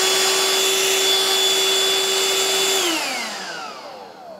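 A Black+Decker vacuum cleaner runs with a loud steady whine, then its pitch sinks and the motor winds down toward the end.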